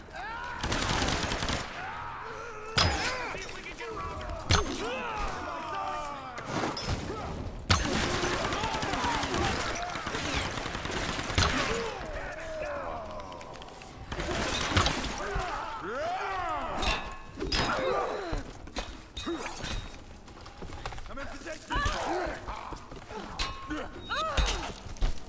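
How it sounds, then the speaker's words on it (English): Tomb Raider gameplay erupts with a suicide bomber's blast, amid a chaotic run of sharp, loud bangs and impacts spread across the clip, with brief shouted voices between them. "He just detonated with me next to him. It was a suicide bomber."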